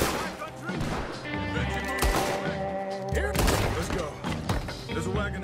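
Gunfire in Red Dead Redemption 2 crackles as several sharp shots and bursts over a busy, tonal game soundscape, with the heaviest hits clustered around the middle of the clip.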